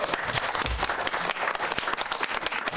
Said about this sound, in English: You're going to have to clap louder than that.